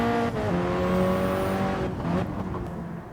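A Gran Turismo 7 race car accelerates out of a corner, its engine note climbing steadily and loud with a faint tire squeal, fading slightly toward the end.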